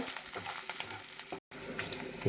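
Green chillies, curry leaves and about ten cashew pieces sizzle in hot tempering oil in a pan, a steady close crackle with one brief break in the sound.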